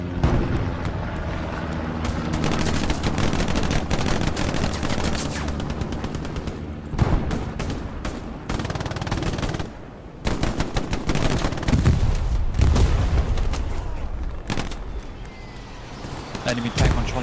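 Aircraft strafing run in Hell Let Loose, with dense bursts of machine-gun fire and heavy impacts in rapid, overlapping rolls that are loud and sustained, while voices talk over the battle.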